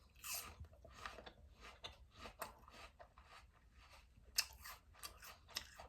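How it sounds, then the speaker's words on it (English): Bites into an Envy apple and chewing sound up close, with several crisp crunches followed by quieter, wet mastication, in a quiet room. "Let me take another bite."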